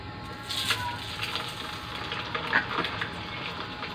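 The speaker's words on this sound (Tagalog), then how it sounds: "Lutuin muna natin tong ating meatloaf." Meatloaf frying in a pan, a steady low sizzle with a few louder crackles and pops scattered through, heard close with no talking.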